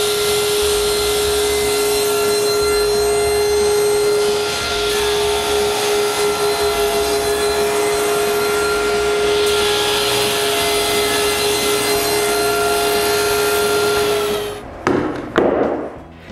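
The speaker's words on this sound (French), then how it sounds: "je vais couper toutes les traverses et les meneaux." Power saw cutting wooden door rails and mullions, a loud steady whining cut with a high tonal hum held for about fifteen seconds, then spinning down into a few knocks and clatters.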